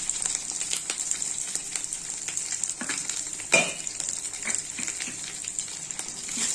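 Poppy seed paste and green chili fry in a pan as a spatula stirs, giving continuous sizzling with scraping strokes and a sharp clatter partway through.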